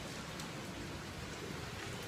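Steady rain falls in a continuous dense hiss, even and unbroken, with no voices or other sounds over it.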